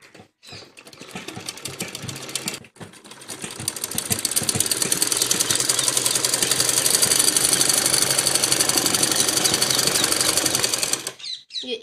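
A sewing machine stitches a fitting seam on a frilled baby top, starting in short bursts, pausing briefly, then running in a long steady rapid mechanical rattle before stopping abruptly.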